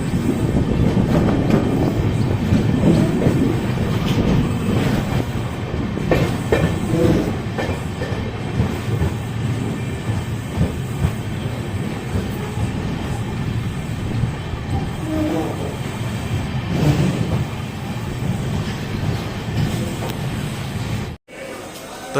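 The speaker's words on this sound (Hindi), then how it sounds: "अपनी अमृत भारत एक्सप्रेस ट्रेन आ चुकी है" The Amrit Bharat Express pulls into Moradabad Junction with a loud, continuous rumble and rattle of rolling carriages and wheels along the platform, and people talking over it throughout.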